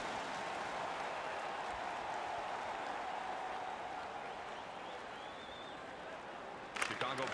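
Arena crowd in the video game NHL 15 roaring and cheering after a hockey fight, a steady dense wash of noise filling the whole stretch, with a brief burst of louder activity near the end.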